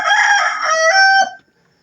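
A rooster crows once, loud and close, in a single drawn-out call lasting over a second before falling silent.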